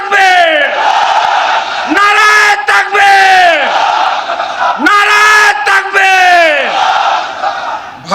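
A large crowd at a political rally in Bangladesh chants slogans in unison, repeated loud drawn-out shouts rising and falling in call-and-response waves, close and dense.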